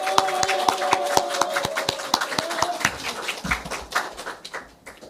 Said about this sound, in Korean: 이분들을 위해서 뜨거운 박수 한번 부탁드립니다